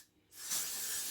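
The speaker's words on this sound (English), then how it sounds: "spray it." Got2b hair spray hisses out of the can onto hair in one steady, close burst lasting about a second after a brief quiet moment.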